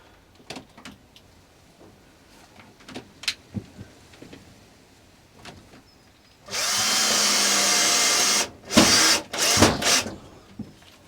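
A power drill drives black screws into a wooden shed, with quiet knocks and handling noises first, then a loud steady whir of a few seconds followed by several shorter, punchy bursts close by.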